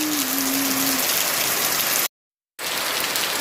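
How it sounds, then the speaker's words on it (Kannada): Steady rain falls outdoors, a dense continuous hiss with a faint tone early on and a brief total dropout partway through. "ಮಳೆ ಬಂತು"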